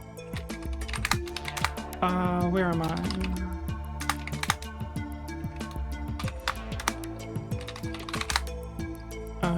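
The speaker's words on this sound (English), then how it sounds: "I can't type. Typing is hard." Rapid computer keyboard typing clicks under steady background music, with brief talk partway through.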